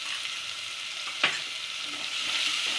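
Chopped onion softening in a pan with chili and turmeric, a continuous gentle sizzle with one brief scrape of a spatula partway through, close and steady with no voices.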